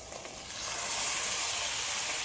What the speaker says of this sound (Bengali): মশলাটা তো ভালো করে কষিয়ে নিয়েছি এবার আমি ডাল আর আলুটা দিয়ে দিচ্ছি